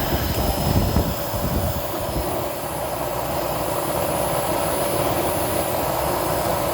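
A Eureka Optima 431BX upright vacuum cleaner running in hose mode during an airflow test, giving a steady, loud broadband whoosh with a high whine, close and continuous with no talking.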